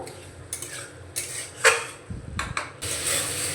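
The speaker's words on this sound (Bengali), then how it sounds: "আমি এখন গ্যাসের ফ্লেমটা মিডিয়ামে করে দিয়েছি ভালো করে কষিয়ে নেব" Soybeans cooked with yogurt in a pan over a medium gas flame, stirred with a metal spoon that scrapes and clinks against the pan in irregular bursts, close and fairly loud, with a faint sizzle underneath.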